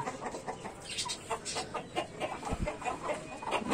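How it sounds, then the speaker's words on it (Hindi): Soft, low clucking from a hen sunning herself comes in short bursts at close range, over faint background noise. "यहाँ पर धूप का सेका ले रही मुर्गी है"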